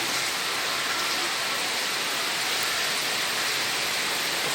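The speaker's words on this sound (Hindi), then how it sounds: "और देखो क्या बारिश हो रही है।" Heavy rain driven by strong wind pours down as a loud, dense, unbroken roar, close and steady throughout with no voices.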